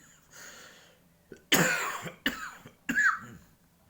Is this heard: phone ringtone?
no